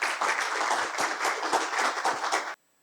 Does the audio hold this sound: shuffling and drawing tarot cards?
no